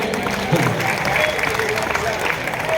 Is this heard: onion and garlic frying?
no